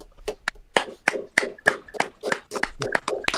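A small group claps unevenly for a few seconds, sharp hand slaps close by with a ragged, irregular rhythm.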